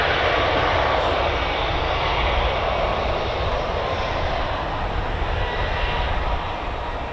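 A C-130J Hercules turboprop transport at RAF Brize Norton takes off, its engines producing a loud, steady, broadband roar that holds constant throughout with no speech.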